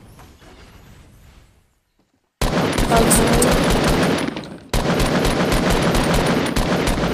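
Rapid video game gunfire bursts in loud, sustained automatic rattles, cutting out briefly into near silence before resuming hard and close, with faint chatter underneath at the start.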